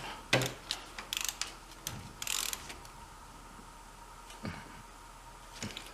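Ratchet tightening the idler pulley bolt on a 2002 Honda Civic Si EP3, quiet irregular clicking bursts in short runs with pauses between, close under a faint steady hum.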